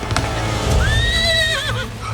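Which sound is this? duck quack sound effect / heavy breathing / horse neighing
horse neighing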